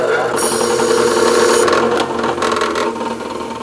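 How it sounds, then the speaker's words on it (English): A powered wire brush scours paint off cut steel pipes for a fuel pump project, a loud continuous whirring grind that fades into intermittent rasping contact bursts. "we're going to go ahead and get the paint off of them with our wire brush here"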